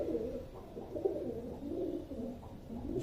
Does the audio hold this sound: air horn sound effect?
no